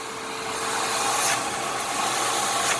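A Dewalt shop vac runs on a 35-foot pool hose, giving a steady, moderately loud airy whoosh with no pauses for the whole moment.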